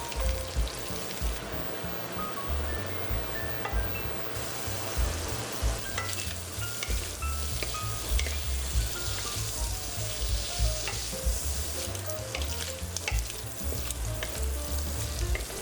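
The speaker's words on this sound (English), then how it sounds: "And cook our 12 ounces of jumbo shrimp." Twelve ounces of jumbo shrimp frying in an oiled pan, a loud continuous crackling sizzle with stirring and scraping bursts throughout, no voices.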